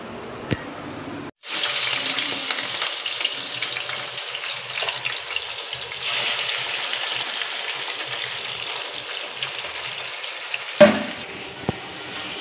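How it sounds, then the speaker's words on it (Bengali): Chicken sautés in a pan in a home kitchen, giving off a steady, close sizzling hiss that starts after a brief pause and runs on, with a light clank of utensils near the end. "তো আমার এইদিকে চিকেনটা কষা হচ্ছে"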